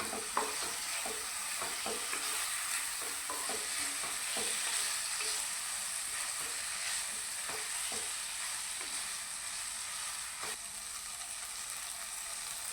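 Boiled potato fries in oil with a tomato masala for an Assamese fish curry, giving a faint, steady sizzle with occasional soft scrapes of stirring and no voices.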